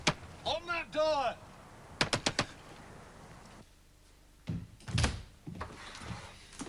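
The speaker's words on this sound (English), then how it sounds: "Open that door!" A door opens with a few sharp clicks and rattles, then a heavier thud, in a studio comedy set; a voice is heard briefly just before.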